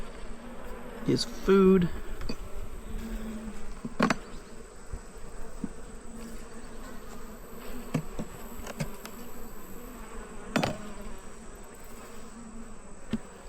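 A honeybee colony in a hive box gives off a soft, continuous buzz, with occasional louder bees passing close by, a few sharp handling knocks, and a brief quiet spoken remark.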